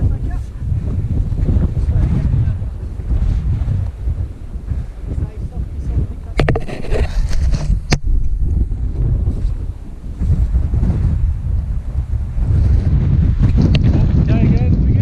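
Strong wind roars and buffets the microphone on an exposed mountain ridge during a Mosedale Horseshoe attempt, loud and continuous throughout, with a few short sharp knocks and people talking briefly under the gusts.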